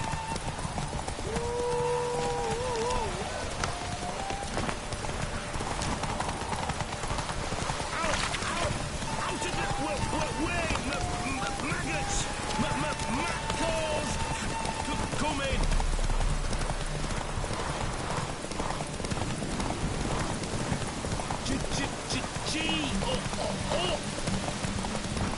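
Roach, a horse in a video game, galloping with steady rhythmic clip-clopping hooves throughout, alongside game music and spoken commentary.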